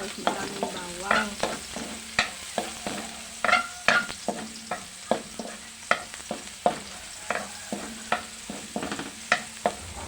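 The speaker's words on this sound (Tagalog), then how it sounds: "maingay itong igigisa ko muna guys ito ang bawang" Plenty of chopped garlic sautéing in a pan for pancit palabok, a steady sizzle punctuated by a regular series of sharp scraping stirs and clinks of the utensil, close and fairly loud, with no talking.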